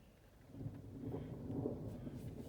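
Rumbling thunder with rain over Surabaya as a storm builds, a low continuous roll swelling and holding steady for a couple of seconds, moderately loud with no voices.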